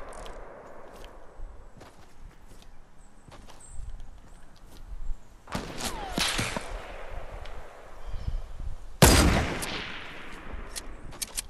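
Gunfire in the video game Fortnite: sharp, loud cracks of single shots ring out over quiet game ambience. One heavy blast near the end trails off into a fading echo.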